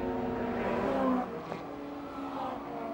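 Lotus Elise race cars racing at Brands Hatch circuit, engines roaring loudly as they pass and fade, with a brief shift in tone midway, no talk over them.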